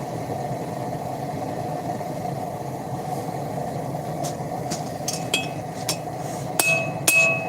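A hammer strikes titanium tongs being forged, giving a few bright metallic rings and clinks late on over a steady, loud forge blower or engine drone.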